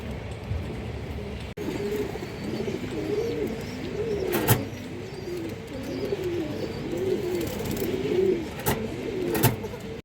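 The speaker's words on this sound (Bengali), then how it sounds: "এই যে দেখেন আপনারা পুরনো কালো গলা কবুতর" Several black-necked pigeons coo continuously in overlapping, rolling calls, close by, with a few sharp clicks or knocks in the background.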